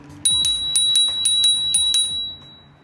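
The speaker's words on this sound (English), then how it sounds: "this is how the bell sounds" A Gotrax G4 Pro electric scooter's handlebar bell rings in a quick, bright series of about eight close, loud dings at an even rhythm, with a faint clatter underneath, then the ringing fades out.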